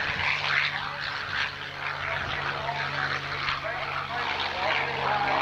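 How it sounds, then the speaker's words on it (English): A P-51 Mustang named Swamp Fox taking off at an air show, its propeller engine droning steadily at a distance under nearly continuous talk. "the airplane that just took off is one of the most important airplanes in all of World War II"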